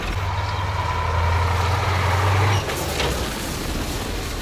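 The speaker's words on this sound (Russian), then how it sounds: "Тормоза работают." Air brakes hiss on a Kolkhida truck fitted with Ural tyres, with a steady hiss over a low engine hum that cuts off abruptly partway through, followed by a fainter rumble.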